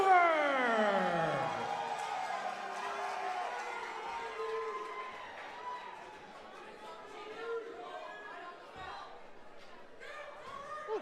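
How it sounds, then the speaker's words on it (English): Crowd noise fills the room at a Nashville Underground fight night, a broad murmur of many voices that fades gradually, with someone talking over it. "Do you hear this crowd right now?"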